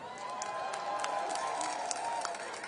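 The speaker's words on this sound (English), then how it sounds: "Clap yourselves up, young people." A large outdoor crowd at a civil rights march in Washington, DC applauds from a distance in a continuous wash of clapping and cheering, faint and steady, with a voice carrying over it.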